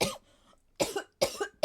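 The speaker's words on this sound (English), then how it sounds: "I just coughed in all of your faces." A person coughs after choking on air: three sharp, close coughs separated by brief pauses, loud and abrupt against near silence.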